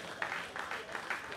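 Faint, distant clapping from a small crowd at Tunde Kilani's 70th birthday celebration comes through in a few soft bursts, applauding a filmmaker.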